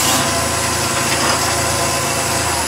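A turned wooden German smoker piece spins on a wood lathe as it is sanded before parting off, giving a steady, close mechanical hum with a continuous abrasive hiss throughout.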